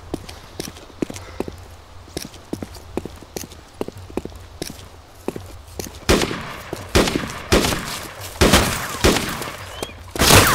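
Gunfire in the survival shooter DayZ: sharp, regularly spaced shots crack at first, then a louder, denser cluster of blasts and rattling bursts takes over near the end.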